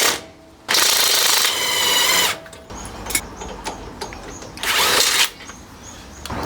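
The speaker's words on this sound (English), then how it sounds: "Now I'm switching to the impact driver." An impact driver loosening bolts on a vehicle's upper control arm and shock absorber, two loud sustained bursts of rapid hammering whir, close up, separated by clinks and rattles of tools and metal.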